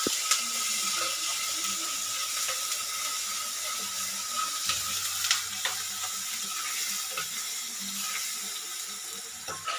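Ingredients fry in hot oil after mustard seeds for a roasted-coconut prawn curry, making a continuous bright sizzle with sporadic crackles and light stirring taps, close by and without speech.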